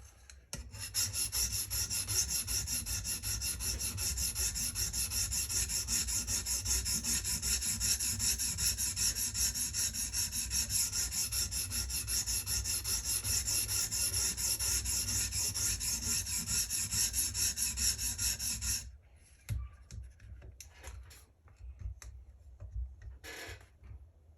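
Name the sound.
knife sharpening on TSPROF Kadet Pro sharpener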